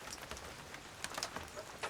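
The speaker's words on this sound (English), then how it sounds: "It's really nice and relaxing just to sit here at the door and watch the rain." Rain falls outside the open door of a tiny cabin on a cold, damp spring day, a faint steady patter with scattered louder drips close by and no voices.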